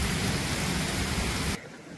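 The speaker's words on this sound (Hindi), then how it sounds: "बहुत तेज़ बारिश हो रही है, बहुत मूसलाधार बारिश जिसको कहते हैं" Heavy, torrential rain roars steadily and loudly, then drops abruptly to a much quieter hiss near the end, with no voices.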